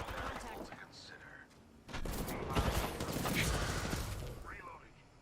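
Weapon reloading in the Apex Legends video game: faint mechanical clicks and ratcheting under sporadic gunfire and game noise, with soft voices present.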